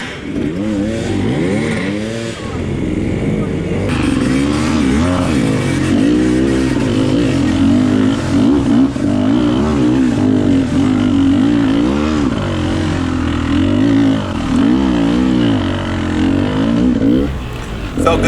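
An enduro motorcycle in a hard enduro race climbs a hill, its engine loud and close, revving up and down in a continuous, labouring wail for the whole stretch.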